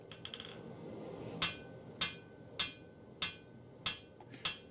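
Hammer blows forging steel into a flat quarter-inch-thick bar for a knife blade: six sharp, evenly spaced ringing strikes about every second, close and clear over a low background hum.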